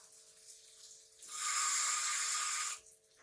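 Tamarind water poured into chicken adobo in a home kitchen, a steady liquid stream lasting about one and a half seconds, near and moderately loud, with quiet room tone before and after.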